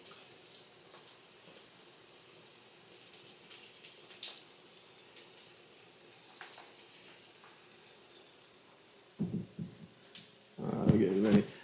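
Near the end, a kitchen tap gushes briefly in a short, loud burst while food is rinsed, after a quiet stretch of faint simmering and sizzling from a pot on the stove.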